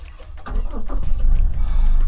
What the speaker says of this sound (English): and that's how the car comes to life.